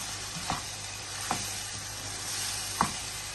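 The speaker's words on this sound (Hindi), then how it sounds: "सब मसालों को थोड़ा सा मिक्स कर लेंगे।" Spices and chili flakes sizzle and are stirred in a pan while making gurda (kidney) masala, a steady broadband frying hiss with three brief spoon scrapes spaced through it, no voices.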